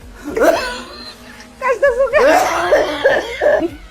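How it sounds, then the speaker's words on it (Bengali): A person coughs loudly and close up, a single cough followed by a burst of harsh, repeated coughs. "আর আব্বা তো কাশতেছে"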